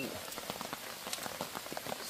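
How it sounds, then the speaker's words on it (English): Steady light rain patters onto a river in Jamaica, many small scattered drops ticking and splashing close by in a quiet, even rhythm. "See rain upon the river."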